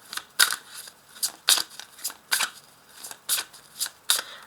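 Tarot cards being shuffled and drawn, heard as a run of crisp riffling bursts at an uneven rhythm, each flutter close and distinct against a quiet background.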